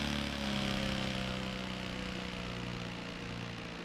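A 1/4 scale S-Bach RC plane engine in the RealFlight simulator game holds a steady, even buzzing drone that eases slightly lower toward the end, alone with no voices.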